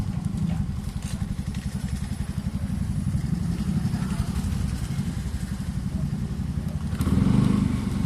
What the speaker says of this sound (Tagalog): Itong motor, patras na konti.